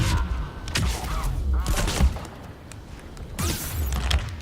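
Grenade blasts and thuds in Mass Effect 3 combat, a dense run of booms and impacts with sharp bursts near the start, middle and end, loud and busy against a constant battle din.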